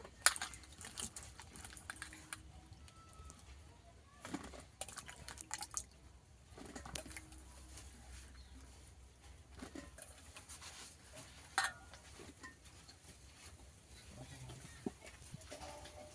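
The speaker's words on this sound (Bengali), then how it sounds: "ভালো করে বেগুনগুলো আমি ধুয়ে নেব। জল থেকে বেগুনগুলো তুলে নেব।" Cut eggplant pieces being washed by hand in water, soft splashing and dripping patter in quiet, intermittent bursts, faint and close.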